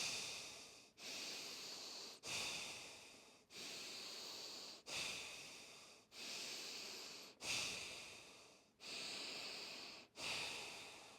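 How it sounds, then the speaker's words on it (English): Deep, slow breaths drawn in during a breathing exercise, about eight long airy inhalations in a steady rhythm, each ending in a short pause, close and soft with no talking. "we'll breathe into the upper heart area 7 times"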